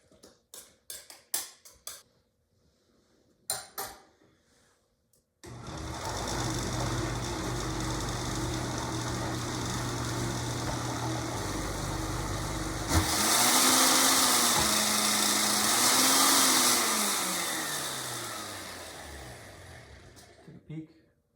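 A blender whirs steadily as it purees avocado cream sauce, with short clicks and taps before the motor starts and a pitch that rises and falls partway through as the load shifts, then winds down.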